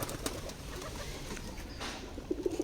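A homer pigeon gives a few soft, low coos in quick succession near the end, heard over faint rustling and scattered small knocks.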